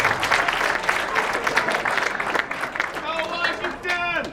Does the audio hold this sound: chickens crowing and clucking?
no